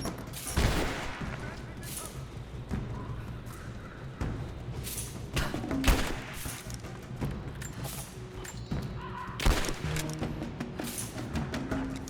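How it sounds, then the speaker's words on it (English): Grenade blast during combat in the video game Rise of the Tomb Raider: a few sharp booming bursts and scattered gunfire over a low rumbling battle background, with a voice speaking faintly beneath. "Throwing a grenade!"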